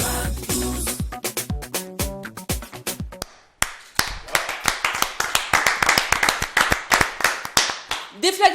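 Sharp, rhythmic hand claps ring out in a TV studio, first under a jingle of music, then as a brisk, evenly paced run of loud individual claps. Someone talks over the claps.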